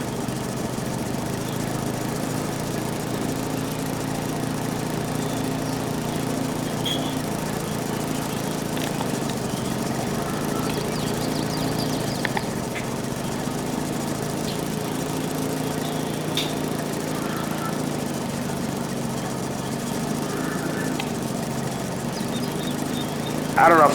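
A lawn mower engine drones steadily while mowing a lawn on a humid day, a continuous mid-pitched hum holding an even level throughout with no speech.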